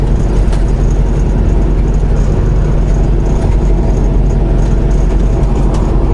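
A car rolls along a road near Salt Lake City, Utah, giving a steady, loud, low engine drone and road rumble with even tyre noise throughout and no voices.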